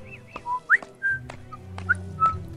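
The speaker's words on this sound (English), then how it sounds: "Don't whistle into the microphone." Someone whistles close into a microphone: short, bright chirping notes and slides, several separate toots spaced irregularly over quiet game music in the background.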